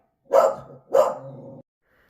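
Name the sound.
dog barking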